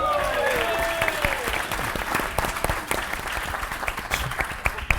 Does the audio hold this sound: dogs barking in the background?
no